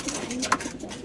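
A racing pigeon gives a soft, brief coo in a loft, faint against a steady background hum with no talking.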